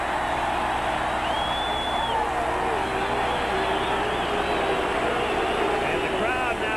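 Crowd at Fenway Park during a 1986 ALCS baseball game, a steady distant roar of thousands of fans rising after a double, with a commentator talking over it throughout.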